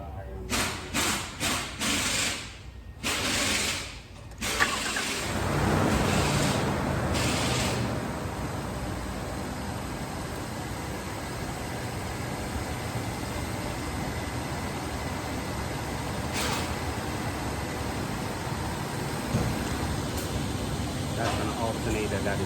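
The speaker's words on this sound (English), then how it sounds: "I'm going to start this vehicle now." A 2005 Nissan Pathfinder engine cranks with a few knocks and catches, then settles into a steady, close idle with a broad hiss. A voice talks briefly near the start.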